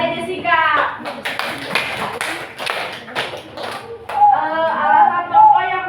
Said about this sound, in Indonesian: Tepuk tangan buat Adek